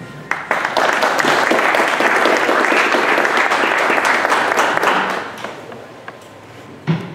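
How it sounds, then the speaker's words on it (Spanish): An audience at the installation of a public security advisory committee breaks into steady, sustained applause, a dense close clatter of many hands that holds for about five seconds and then fades to a few scattered claps. "le brindamos un fuerte aplauso"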